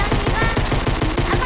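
Rapid automatic gunfire in Fortnite, a fast, loud string of evenly spaced shots during a match, with faint voices underneath.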